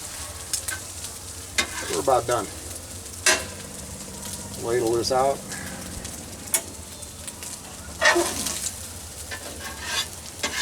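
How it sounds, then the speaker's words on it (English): Onions and corn sizzle and crackle steadily in a hot pan, with occasional scraping and stirring, while someone speaks briefly and a bird coos nearby. "See, we got the onions changing colors. Corn's popping. Not literally, but sizzling, I guess."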